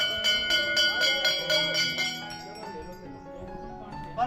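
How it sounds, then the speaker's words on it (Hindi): Temple bells ringing at the Nagraja temple shrine at Sem Mukhem, repeated bright metallic strikes with long ringing overtones that slowly fade, with talk in the background. "और इस साइड को जो है काफ़ी घंटियां हैं,"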